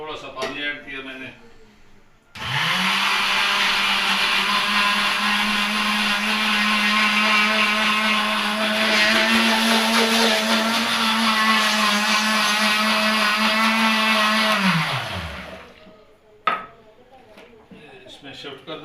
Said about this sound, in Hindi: दही को मैं ब्लेंडर में बस सिर्फ 2 सेकंड के लिए इसे घुमाऊँगा